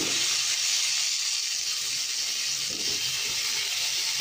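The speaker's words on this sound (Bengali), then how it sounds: "তুলে নিয়ে ওই তেলেই কালো জিরে ফোড়ন দিয়ে আলুটা ছেড়ে দিলাম" Potatoes dropped into hot oil tempered with nigella seeds give a loud, steady sizzle and hiss that holds evenly throughout, close and continuous with no pauses.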